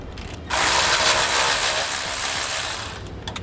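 A ratchet wrench spins a nut off a steering dampener bolt on a 2017 Jayco RV, a loud, steady buzzing ratchet clatter lasting a couple of seconds, then quieter clicks.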